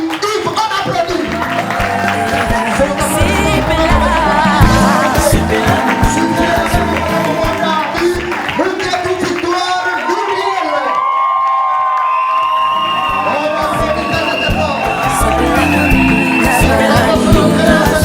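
Wedding guests applaud and cheer at a civil ceremony for the groom, a dense crowd roar with shouts, whoops and clapping running loud and steady throughout, voices mixed into the din.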